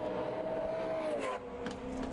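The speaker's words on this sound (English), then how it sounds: "The Ford GT, Maxime Martin at the wheel, is now on its way up the pit lane, back into the race" A Ford GT race car rolls up the pit lane at an endurance race at Navarra, its engine a steady, moderately distant drone with a slight drop in pitch partway through.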